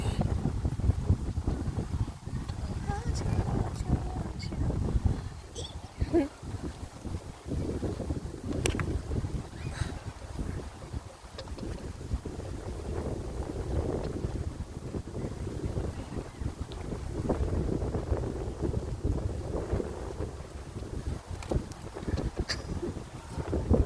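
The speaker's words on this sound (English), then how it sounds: "It's a little windy." Steady wind buffets the microphone in a continuous low rumble, with faint background sounds underneath throughout.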